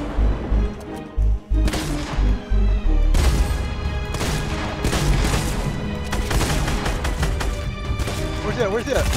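Gunfire crackles through a video game shootout in a duos match, dense bursts and booms layered over loud game music and effects while players talk excitedly over it.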